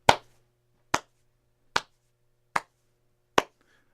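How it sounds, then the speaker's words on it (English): One person on a hip-hop podcast gives five slow, sharp claps, evenly spaced about a second apart, crisp and close against near silence. "Round of applause"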